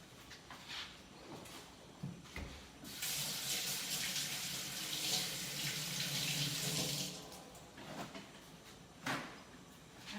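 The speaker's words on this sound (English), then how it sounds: "Let me wash my hands." Hands washed under a running kitchen sink tap during meal prep, water splashing steadily for several seconds in the middle with faint clatter before and after, fairly quiet and without talk.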